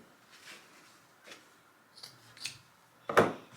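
Scissors cutting material off a plastic Halloween skeleton decoration, several soft scattered snips ending in one louder close cut.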